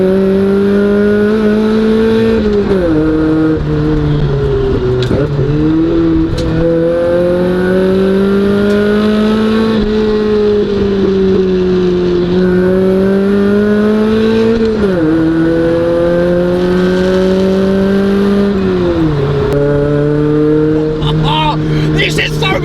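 A rusty, noisy Toyota Levin drives steadily with a loud, droning engine note that rises and falls through several gear changes, with a person talking over the engine throughout.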